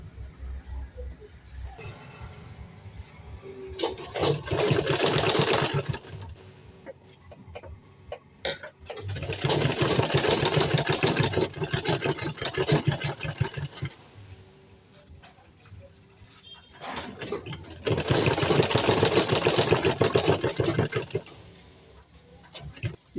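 A sewing machine stitches around a bag lining in three long runs of rapid, steady mechanical chatter, separated by quieter pauses filled with faint handling noises, close and without speech.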